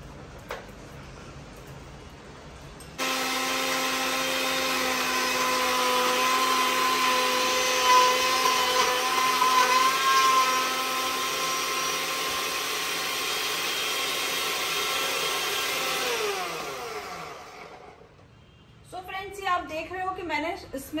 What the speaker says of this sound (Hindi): मैंने इसमें जो हमारा मिल्क शेक वाला जार था उसमें मलाई को डाल के अच्छी तरह से घुमा लिया है।